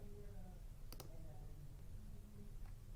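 A computer mouse gives a quick double click, crisp and close but faint over a low steady hum, then a faint tap follows.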